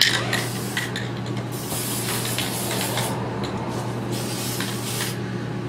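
Spray equipment applying a UV-stable outer coating over a pinhole repair hisses steadily and loudly throughout, with a constant low compressor hum and slight pulsing changes in the spray, and no speech.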